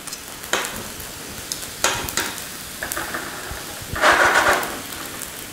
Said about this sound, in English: Now eventually the alcohol is gonna burn out of the brandy and the fire is gonna stop.